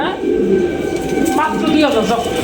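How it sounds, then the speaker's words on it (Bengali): Big red house pigeons coo at a pigeon market, soft low cooing under close talk and busy background noise. "হাউস পিজন রেড কালারের বিগ সাইজ"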